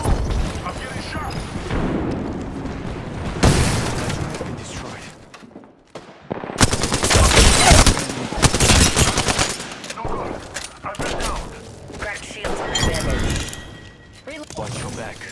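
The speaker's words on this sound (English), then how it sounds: "I'm getting shot." Automatic gunfire in a fast Apex Legends ranked match, with bursts of rapid shots and impacts coming in waves, loud and dense, with players talking over the fighting.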